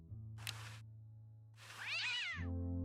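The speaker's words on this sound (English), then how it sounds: "What a pretty pussycat." A cat in the Day of the Tentacle video game gives a few short meows and one longer, wavering meow, close and clear over a low steady hum, with no talking.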